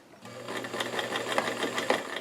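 A sewing machine stitches a tapered seam in tiny doll jeans, a steady close whirring hum with a fast regular needle pulse that runs for about two seconds without a voice.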